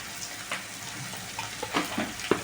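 Spice paste frying with ginger and garlic in a pan for a turkey chicken curry, a soft steady sizzle with a few sharper spatters and stirring clinks, no talking.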